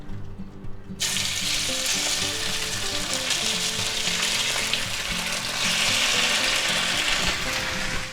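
Marinated beef for pepper steak dropped into a hot pan, bursting into a loud, close, continuous sizzle after a brief quieter moment, with faint rattling of the pan and no voices.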